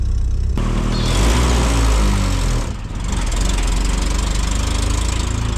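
A damaged car engine runs steadily and loudly up close, its rough rumble continuous with a brief dip near the middle and no talking over it.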